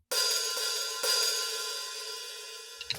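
Open hi-hat on an electronic drum kit with the pedal released: one washy, sustained cymbal sizzle that rings and slowly fades, with a second strike about a second in, close and alone.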